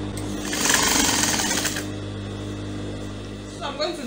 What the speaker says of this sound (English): and then before you start stitching